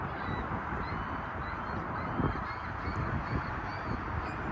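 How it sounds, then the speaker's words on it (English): Seagulls call outdoors in Washington, D.C., their honking cries rising from time to time over a dense, noisy wash of street ambience. "Seagulls."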